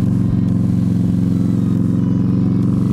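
A 2015 Yamaha Stryker motorcycle rides along a winding mountain road, its V-twin engine producing a loud, steady, throbbing rumble close to the microphone with no pauses or talk.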